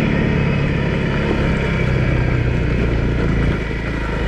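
A Honda CRF250L motorcycle engine labouring in too high a gear on a rough trail, a loud continuous low drone that stays steady before easing slightly near the end.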